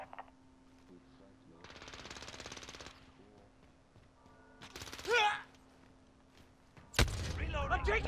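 Machine gun fire in a video game: a sustained rattling burst early, then a louder blast and a heavy rapid volley at the end, mixed with in-game voice callouts.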